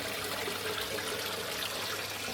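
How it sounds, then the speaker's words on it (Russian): Water from a homemade aerator trickles steadily into a small fish tank, a continuous faint splashing with no voices. "Это новодел. Самодельный аэратор."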